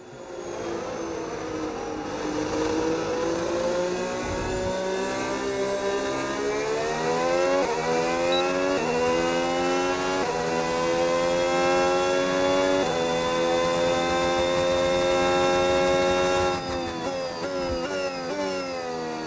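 Formula 1 race cars in the F1 26 racing game, Red Bull RB22 pre-season testing, a loud sustained engine whine climbing steadily through the gears with a brief shift dip, steady and close throughout, no talking.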